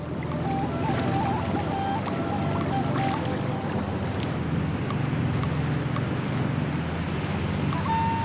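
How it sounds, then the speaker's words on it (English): Sea waves breaking around Vezo pirogue boats on the Mozambique Channel, a continuous loud rushing wash of surf and wind noise, with brief faint tonal cries early on. "The waves in front of us form a versatile wall of foam."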